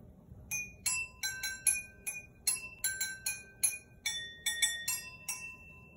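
Bells ring out a melody, a quick run of bright, ringing strikes with short pauses between phrases, clear and close with no talk over them.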